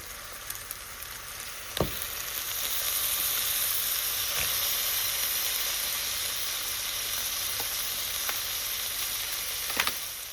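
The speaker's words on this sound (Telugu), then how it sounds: "దీన్ని కూడా ఒకసారయితే ఫ్రై చేసేసుకొని మంచిగా, మనం క్లీన్ చేసుకొని పెట్టుకున్న పీతలనయితే ఇందులో వేసేసుకోవాలి" Crabs sizzle in a pan with onions and ginger-garlic paste, a steady broadband frying hiss with a few sharp clicks and spatula knocks. No one speaks.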